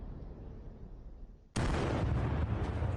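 A grenade dropped from a drone detonates in a single sudden, loud blast that cuts in over faint background rumble, then gives way to a sustained rough roar of debris and echo.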